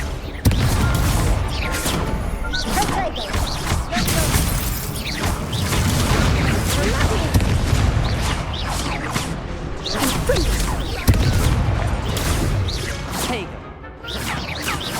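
Hogwarts Legacy gameplay with a Confringo fire spell exploding amid dense, continuous combat noise of whooshes, booms and crashing impacts, loud and busy throughout.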